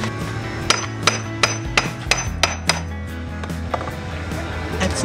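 A hammer drives a rudder bushing into place on a boat with about ten sharp, close strikes in an uneven rhythm over a low background hum.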